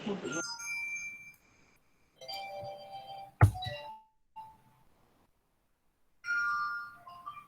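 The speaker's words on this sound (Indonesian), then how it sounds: "Ini ringtone apaan sih?" A short electronic phone ringtone melody plays in bursts separated by silences, with a sharp click partway through; fairly quiet and close.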